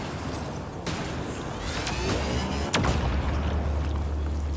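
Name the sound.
turrets firing in the video game Mass Effect Andromeda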